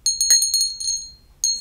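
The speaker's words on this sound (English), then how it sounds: "Over here, we have a crystal bell." A small crystal bell rings in a quick run of bright, clear strikes that fade briefly before one last ring, close and alone with no talking.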